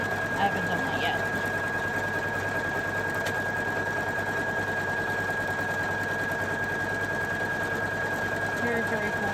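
A Poolin EOC06 embroidery machine stitches with a steady, rapid mechanical chatter and a constant high whine, running continuously at moderate level; no one speaks over it.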